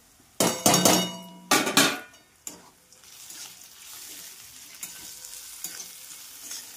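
Ground peanut powder being mixed into thecha in a pan: several loud metallic clanks and scrapes of a spoon in the first two seconds, then a faint, steady sizzle with light scrapes and no talking.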